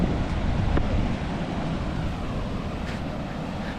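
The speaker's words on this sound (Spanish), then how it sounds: "Vamos a mostrarle un poquito de la famosa cascada de Roque Pérez." Rushing water of a waterfall on the Salado river at Roque Pérez, Argentina, a steady broadband roar that stays loud and even throughout, with no voices.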